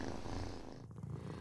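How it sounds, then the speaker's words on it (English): A cat purring close up: a steady low rumbling purr with a rapid pulsing texture and a brief dip near the end, with no voices. "cats purr when they're in the presence of their trusted human companions"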